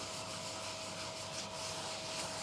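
Steady close-up rubbing of a cloth working tung oil finish into a turned wooden piece on a lathe, a soft continuous friction hiss with even texture throughout and no voices.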